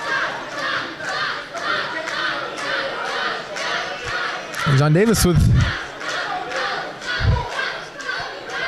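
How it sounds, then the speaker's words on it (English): A small group of fans at a pro wrestling show yells and cheers for wrestler Jon Davis, bursts of shouting rising over arena ambience while a commentator talks throughout. "his group of fans cheering for him"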